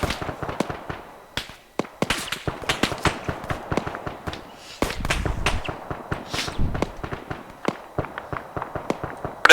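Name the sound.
fireworks in video game ArmA 3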